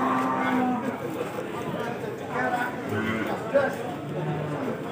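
Beef cattle, black Pegon stock at a livestock trading spot, moo in drawn-out calls over steady background chatter, with people talking close by throughout.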